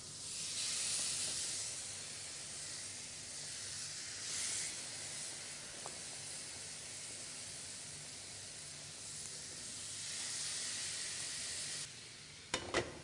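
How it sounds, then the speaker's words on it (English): Tandoori chicken placed in a preheated gas oven tandoor hisses and sizzles with escaping steam, a broad continuous rush that swells and eases over several seconds, ending with a couple of sharp clicks. "Look at the steam coming out."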